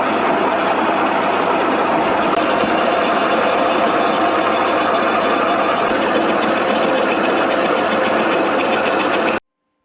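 Victoria milling machine running continuously, a steady loud mechanical drone and whirr that holds even for the whole stretch and then stops abruptly at the end.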